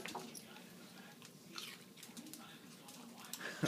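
A dog chews celery up close with soft, wet crunching and smacking bites, faint and irregular, while a person speaks quietly in the background.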